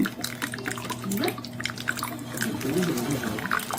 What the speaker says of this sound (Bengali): বেশ খানিকটা তেল দিয়ে দিলাম তেল পড়তেছে নিচ থেকে